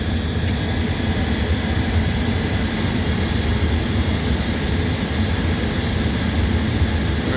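An Intellipack heater's pilot burner flame produces a loud, steady, unbroken roar that holds constant throughout, with no one talking.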